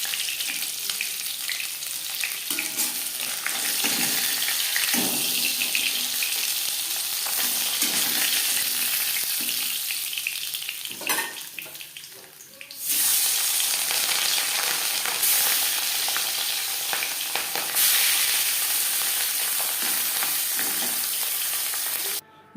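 Chopped onion sizzles and fries in oil left over from frying katla fish for a curry, a steady close hiss with occasional stirring scrapes, a brief dip midway, no talking.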